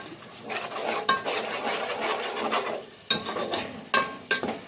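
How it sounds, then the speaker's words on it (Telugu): A spoon stirs ground masala paste with milk and yogurt in a metal pot, giving a continuous scraping swish broken by a few sharp clinks against the pot's rim. "ఇప్పుడు మనం మసాలాలు మొత్తం గ్రైండ్ చేసుకున్న పేస్టు అలాగే కొంచెం పాలు కొంచెం పెరుగు కూడా వేసి మొత్తం కలియ పెడదాము"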